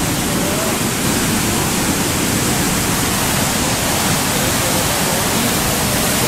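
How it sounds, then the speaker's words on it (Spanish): Magdalena River rushing powerfully through the narrow rocky strait of Estrecho del Magdalena, a loud, dense, unbroken roar of water close by. "Escuchen cómo suena el río, espectacular."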